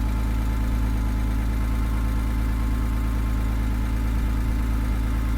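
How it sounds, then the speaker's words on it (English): A Porsche Boxster engine idles steadily in poor condition after being started, a low continuous hum with a faint ticking that holds evenly throughout and is heard alone without talk. "Bit of a tick coming from the engine."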